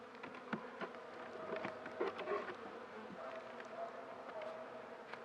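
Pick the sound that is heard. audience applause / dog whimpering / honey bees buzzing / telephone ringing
honey bees buzzing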